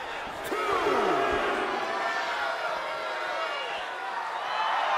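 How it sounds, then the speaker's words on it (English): A large wrestling crowd roars and cheers loudly and continuously, a dense wall of voices with occasional shouts rising above it. "The sound of this crowd is deafening"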